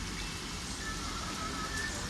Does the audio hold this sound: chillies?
no